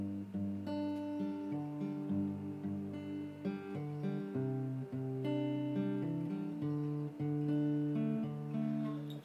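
Acoustic guitar picks out the verse of a song slowly, with steady strummed chords ringing evenly and close throughout, with no voices.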